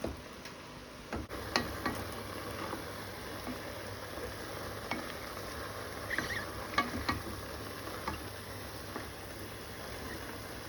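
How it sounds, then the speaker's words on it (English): Beef cooking in a pan with Italian herbs and garlic, stirred at intervals: a steady sizzle runs throughout under scattered clicks and taps of a utensil against the pan, close and alone with no talking. "I'm going to give that a really good stir, let that cook"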